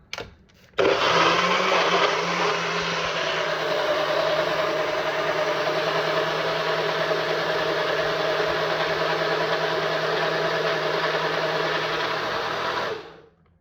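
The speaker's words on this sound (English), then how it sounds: "I'm gonna put it on the blender." A blender whirs loudly and steadily for over ten seconds close by, blending tomato dip, then winds down as it is switched off.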